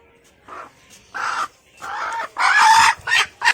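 A hen clucks in a series of separate bursts, calling her chicks. The calls start short and grow louder and fuller toward the end, with quiet gaps between them and no talking.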